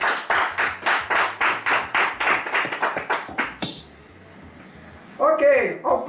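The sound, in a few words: guests clapping to cheer Marcel at a wedding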